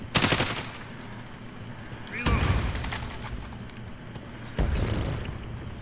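A light machine gun in an online shooter game fires in three loud bursts, each rattling briefly and then trailing off into fainter game noise.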